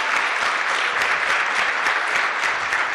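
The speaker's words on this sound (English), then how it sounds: "a big final round of applause for all those teams present up on this" Steady applause from an audience for competing teams on stage at a championship final, dense and continuous clapping filling the room with no voices standing out.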